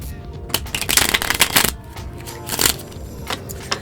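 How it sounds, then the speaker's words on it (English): Tarot cards being shuffled by hand, close and crisp, with several bursts of riffling and flicking separated by brief pauses. "I haven't finished shuffling yet"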